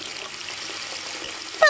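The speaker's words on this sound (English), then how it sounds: "Would you please turn off the faucet?" Steady hiss of water running from a faucet, fairly close, continuous with no voices, ending in a brief louder burst.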